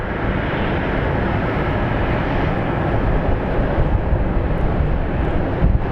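An Airbus A320neo being pushed back from the gate at Sky Harbor International Airport, with a loud, steady jet engine rumble and roar holding constant throughout.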